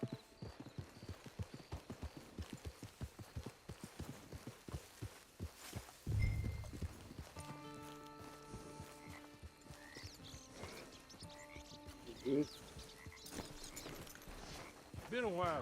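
Horse hooves in the video game Red Dead Redemption 2 clip-clop in a steady rhythmic gait, then slow, with a snort and in-game speech and music over the remaining footsteps.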